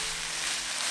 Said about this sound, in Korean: 소금 한 꼬집을 뿌리고 마늘과 양파 향이 어우러지도록 볶아주세요.